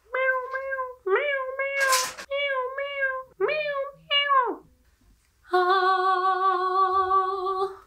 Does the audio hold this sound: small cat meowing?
yes